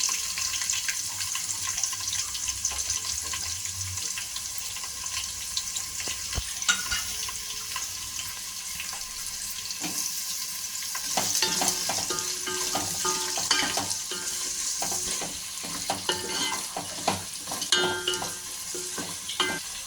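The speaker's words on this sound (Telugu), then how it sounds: "ఉల్లిగడ్డ వేసుకుందామండి." Onions fry in a pan for home-cooked sorayaka dalcha, with a steady close sizzle, occasional stirring scrapes and light clatter throughout, and no talk.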